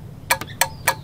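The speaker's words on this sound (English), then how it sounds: "I hear a relay click on the controller." Relay inside the controller of a Huffy electric ride-on clicking, heard as a few sharp, close ticks in quick succession.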